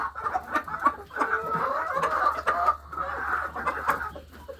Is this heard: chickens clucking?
yes